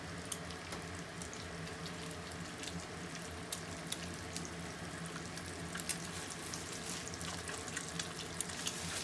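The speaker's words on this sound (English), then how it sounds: "I'm gonna throw another fried egg in there because I love eggs in my burgers" A fried egg sizzles in a HexClad hybrid pan, a steady, dense crackle and hiss with small pops running evenly through the whole stretch, with no voices over it.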